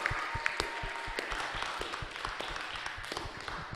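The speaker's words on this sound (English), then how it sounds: "everyone who raised their hand for C, clap your hands, you got the right answer" A game show audience claps their hands in scattered, uneven applause, a steady patter of many hands at moderate distance with no one speaking over it.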